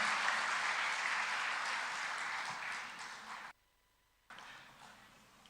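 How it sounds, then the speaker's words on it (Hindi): Crowd applause at a public government event in Madhya Pradesh welcoming the chief ministers, a dense wash of clapping that tapers slightly, then drops out to near silence before faintly resuming. "जरा तालियों से अभिनंदन करें"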